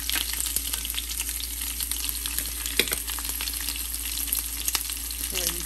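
Sesame seeds, curry leaves and green chilies tempering in hot oil while making Gujarati khandvi, giving a steady loud sizzle dotted with sharp crackles and pops, with no talking.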